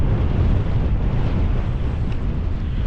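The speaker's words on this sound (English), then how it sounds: "it's very windy" Strong wind buffets the microphone in a constant, heavy low rumble, loud and unbroken throughout, with no voices.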